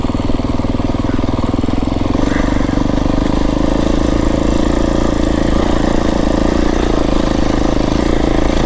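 A Beta 350 RR X-Pro dirt bike engine runs loud and close, a steady throbbing idle-to-low-rev drone holding without break throughout.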